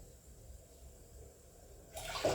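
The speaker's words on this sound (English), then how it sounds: "Make sure you add in boiling water" Boiling water is poured into a pot to make Toto Afya porridge. A faint, quiet hum gives way in the final half-second to a sudden, close, splashing pour.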